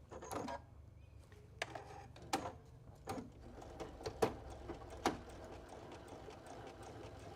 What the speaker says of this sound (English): So I like to go ahead and stitch from the top.